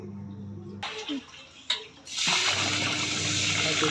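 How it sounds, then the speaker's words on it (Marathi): Wheat grains are washed in water, with sloshing and a surge of pouring, swirling water rising to a loud continuous rush after a couple of seconds, close by. "अगोदर हे गहू 2-3 पाण्यानं असे चांगले निर्मळ धुवून घ्यायचे."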